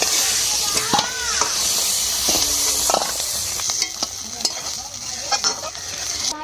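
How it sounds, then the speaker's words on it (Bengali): Loud, close sizzling of crab frying in hot oil, with a spatula scraping and clinking against the pan now and then, no talking. "কাঁকড়াটাকে ভেজে নিচে তুলে নেবো।"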